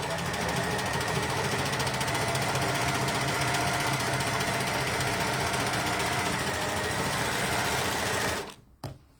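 An overlocker sews a rolled hem along fabric bunting, giving a loud, steady, fast mechanical whirring and rattling run for about eight seconds before it cuts off abruptly, followed by a brief quiet handling knock.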